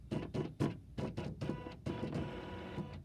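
An embroidery machine stitches a quilt block design in quick rhythmic bursts of clattering needle strokes, several short pulses at first and then a longer continuous whirring run, close and alone.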